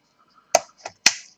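Plastic retaining clips on an Acer Aspire 5742 laptop keyboard pop loose as the keyboard is pried up from the middle, three sharp close snaps in quick succession against near silence.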